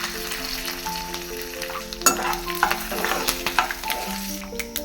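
Curry leaves and turmeric fry in hot tempering oil with a steady crackling sizzle that grows busier partway through, joined by light scraping of a spoon in the pan, close and moderately loud.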